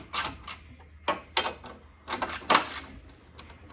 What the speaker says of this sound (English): So I'm just gonna tighten all these bolts, just using a shorty for now.